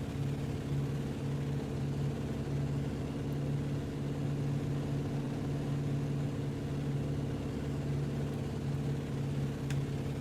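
Steady, fairly quiet drone of a BF 108 Taifun light aircraft engine throttled back in a flight simulator, a constant low hum with no voices.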